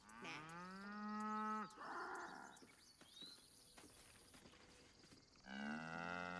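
Cows lowing in Baldur's Gate 3, one long loud moo at the start, a second moo near the end, with quieter rustling and faint ambient sounds between them.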